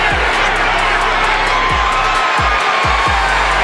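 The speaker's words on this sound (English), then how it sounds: "Butterbean, the crowd's encouraging him." A dense, loud boxing crowd at a heavyweight bout cheers and shouts encouragement to a fighter, forming a continuous roar with whoops rising out of it and no pause.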